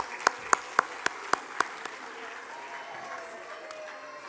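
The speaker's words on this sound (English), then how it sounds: "Congratulations and a huge round of applause to you." Audience at a mom contest breaking into applause, a few sharp separate claps at first, then a thinner scattered patter that fades out under faint crowd murmur.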